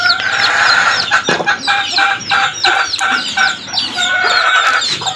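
Hens and young chicks cluck and peep close by in a steady, busy chatter, with a rooster-like call mixed in and sharp bursts of activity throughout.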